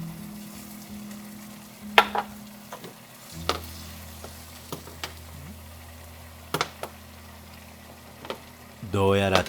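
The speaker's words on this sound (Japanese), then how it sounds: "卵焼きを作る。 フライパンに焦げついて" Rolled omelette (tamagoyaki) egg sizzling in an iron frying pan, a steady low frying hiss with occasional sharp taps of utensils against the pan and a brief clatter near the end.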